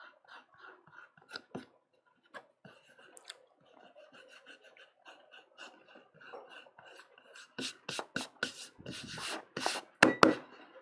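Paper rubbed by hand against a carved woodblock during a Japanese woodblock print transfer, giving soft scattered scraping and rasping strokes that build into denser, louder rubbing bursts toward the end, close by.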